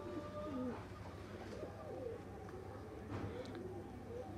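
Rare pigeons cooing softly and repeatedly, several low rolling calls close by over a steady background hum, with no talk.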